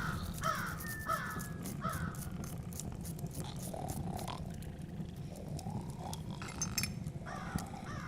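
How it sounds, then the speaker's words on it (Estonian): Crows caw repeatedly in an early-morning forest at an army field camp, several harsh calls spread across a steady low rumbling background, some near and some farther off. "Hommikut võtavad vastu juba varesed."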